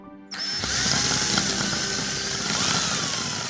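Cartoon power drill whirs while building a shoe house, a loud, sustained high-pitched motor whine that starts abruptly and holds steady with slight pitch wobbles.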